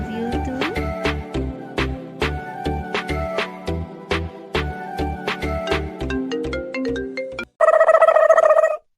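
A mobile phone ringtone plays loudly as a rhythmic, melodic tune of repeated beats, then gives way to a sustained buzzing electronic tone at the end.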